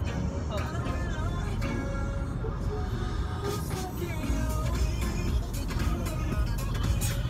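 Steady road rumble from a car cruising on a freeway toward New York at highway speed, continuous and close inside the cabin, with people talking over it.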